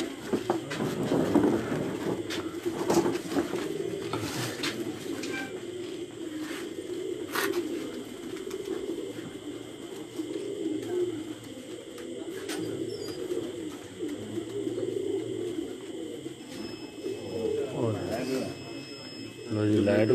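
Pigeons cooing on a rooftop during a live pigeon-flying session, a steady low murmur of coos throughout with people talking over it and occasional sharper clicks.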